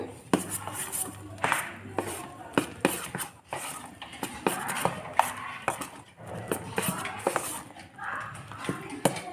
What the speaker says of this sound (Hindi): और ये कटा हुआ हरा धनिया। इसे अच्छे से मिक्स कर लेंगे।